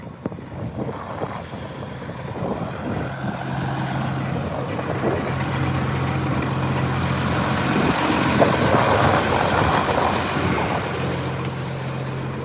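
Farm tractor engine running steadily in an open field while being readied for planting, a low continuous rumble with a droning hum and wind buffeting the microphone.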